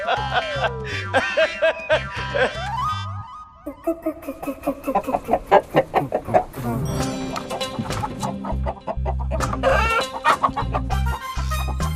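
Chicken clucking and squawking in a comic scene amid music and sound effects, with bursts of rapid fowl cackles and a sliding tone, people talking over it.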